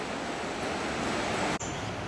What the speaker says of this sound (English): there's where the water is going over the dam